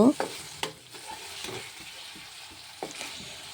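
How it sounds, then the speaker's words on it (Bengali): A ladle stirs chicken pieces through sizzling spiced oil, with several scraping strokes over a steady close fry and no talking. "এবারে আমি দিয়ে দিচ্ছি চিকেন চিকেনগুলোকে দিয়ে হালকা হাতার সাহায্যে নেড়া ছেড়ে নেব"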